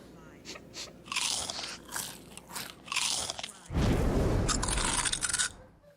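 A snack is crunched loudly and repeatedly in an advert sound effect, with bursts of close, crisp biting and chewing that build to a long, heavy crunch before cutting off.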